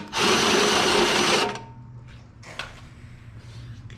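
A drill enlarging a hole for a rivet nut (rivnut) insert while fabricating custom brackets for a fuel cell mount, running loud and steady for about a second and a half, then stopping and leaving quiet handling noise.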